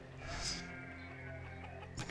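Sheep bleat in a petting zoo area in the village-building game Banished, a soft, distant wavering bleat early on over a faint steady ambient background.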